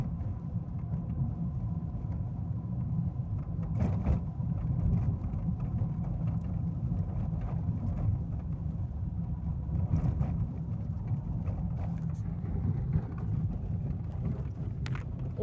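A car drives along a road toward a fishing town by the Dnipro, a steady low rumble of engine and tyre noise heard from inside, with occasional bumps and wind buffeting the microphone.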